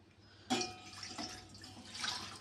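A glass of milk is poured for tea, a soft sudden splash and trickling stream with a second brief pour near the end, faint and close in a quiet kitchen.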